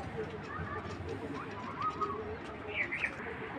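Racing pigeons about a year old coo softly in a loft, their faint murmuring calls mixed with light chirps beneath a person talking nearby.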